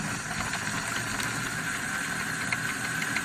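A single-motor card shuffler struggles a little at startup while pushing out stiff playing cards, making a steady motor whir with faint rapid flicking and rattling throughout.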